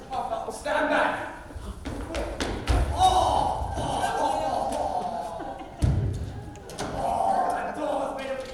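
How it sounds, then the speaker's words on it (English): Door being broken down in a stage play, with heavy thuds and slams at intervals, one hard blow near the start and another midway, over onstage voices and crowd murmur. "I just have to break down that door."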